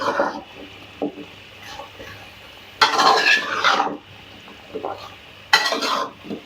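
A mix of potatoes, carrots and peas is stirred in a pot. A spoon scrapes and clatters in uneven bursts over a soft sizzle.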